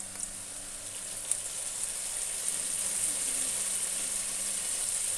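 Potatoes sizzle steadily in a pan over a high flame as soy sauce is added, a continuous hissing fry with faint crackles, fairly quiet and alone, with no one talking.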